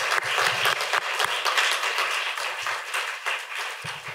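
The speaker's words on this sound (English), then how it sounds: "if anybody here is feeling that we should be more on fashion activism, applaud now" A panel-discussion audience on fashion activism bursts into applause, dense steady clapping from many hands that carries on loudly and slowly thins toward the end.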